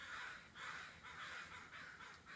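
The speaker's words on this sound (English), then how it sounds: "those crows are going at it today" Several crows caw in a steady series of harsh calls, about five in a row, distant and fairly faint with no other sounds over them.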